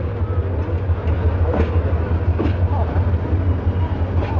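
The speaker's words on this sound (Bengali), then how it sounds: "এই যে দেখতে পাচ্ছেন তিতাস কমিউটার ট্রেনটি ভৈরব বাজার জংশন ছেড়ে যাচ্ছে" The Titas Commuter train pulls out of Bhairab Bazar Junction with a deep, steady engine rumble and rolling rail noise, loud and close, with a few faint creaks over the drone.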